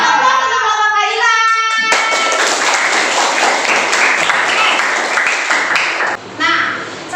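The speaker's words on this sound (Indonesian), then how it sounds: "Aplaus untuk kelompok Kaila" Applause for a group of students in a classroom, dense steady clapping from many hands that starts after a few seconds of voices and fills the rest of the clip, briefly dipping near the end.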